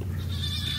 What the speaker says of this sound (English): You can hear the goats in the background.